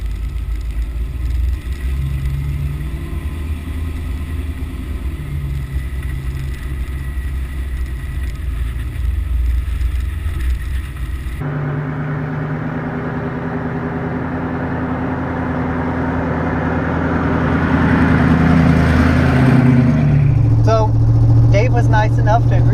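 A 1934 Dodge coupe with a General Motors V8 and Edelbrock four-barrel carburetor drives along, its engine droning steadily and rising in level toward the end, heard from inside the car along with faint voices.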